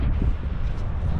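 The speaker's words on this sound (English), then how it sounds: "The wind is like so bad here" Strong wind buffets the microphone on a coastal rock in Ireland, a loud, steady low roar with no break across the short stretch.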